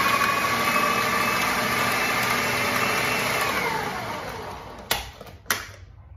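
A food processor running on low speed, a steady close motor whir that winds down and stops, followed by two sharp clunks of the machine.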